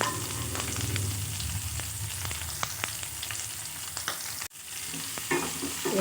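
Sliced shallots and garlic sautéing in a pan for a tomato-based sundakkai kuzhambu, loud continuous sizzling with frequent spatula scrapes and clicks, one short break near the end.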